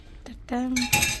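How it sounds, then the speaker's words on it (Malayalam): A lid goes onto a cooking pot holding a pepper and curry-leaf dish, a brief close metallic clatter then a ringing clink as it settles, with no talking. "ഇനി മൂടി വെക്കട്ടെ കേട്ടോ കുറച്ച്, അല്ലെങ്കിൽ അത് അലമ്പായി പോകും."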